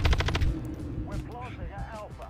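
Rapid burst of video game gunfire from Modern Warfare 3, likely a light machine gun, loud and close for about half a second, then game sounds and chatter continue beneath a voice talking.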